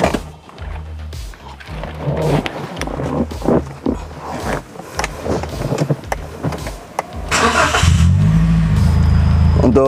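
Toyota Avanza with a remote engine start fitted, its engine cranking and catching amid clicks and clunks, then a loud, close rev swelling near the end with no talk.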